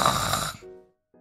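A voice imitates a hare snoring for a children's Christmas story: one loud, raspy snore that gives way to a softer, breathy tail before a brief pause.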